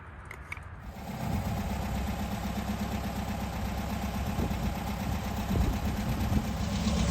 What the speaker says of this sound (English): Not just a running motor, but a Volkswagen running motor.